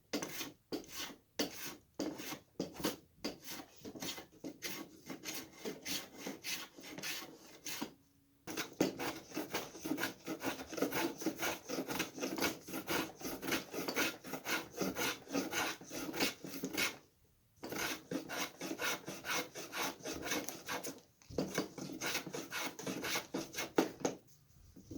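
A rasp or file smooths saw marks off a wooden chair part, making close, steady back-and-forth scraping strokes in long runs broken by a few brief pauses, with no talk.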